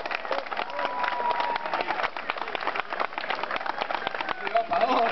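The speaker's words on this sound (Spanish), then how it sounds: "¡Fuerte el aplauso!" An audience applauds at an award presentation as a prize winner comes forward, scattered clapping from a crowd with voices and chatter running through it, muffled and somewhat distant.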